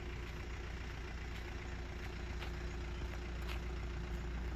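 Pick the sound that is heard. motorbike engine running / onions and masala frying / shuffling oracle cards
motorbike engine running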